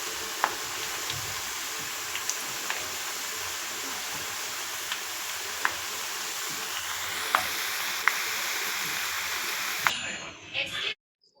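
Pakoda pieces sizzle steadily in hot oil, with occasional sharp clicks and taps as they are turned over, before the frying sound cuts off abruptly.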